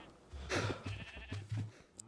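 A sheep bleats in a video game, giving a few short, fairly quiet calls in a brief burst with no talk over them.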